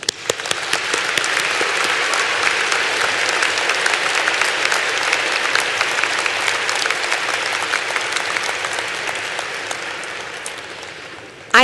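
A large arena audience at the UCCS Fall 2015 commencement applauds graduates, building quickly into loud, sustained clapping that carries on evenly for about ten seconds before tapering off slightly.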